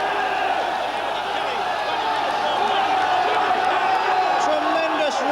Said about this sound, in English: Tremendous roar here as he goes round that bend